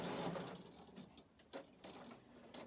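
A sewing machine stitches fabric at a home work desk in short, irregular mechanical bursts, close and fairly quiet, with no voices.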